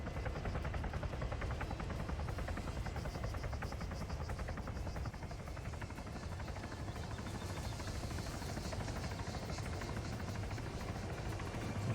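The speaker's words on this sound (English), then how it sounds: "Hear the helicopter. Looks like it's landing near the town." Helicopter in the Arma 3 video game landing near a town, a steady rotor thrum and whine that holds loud and constant throughout, with no voices over it.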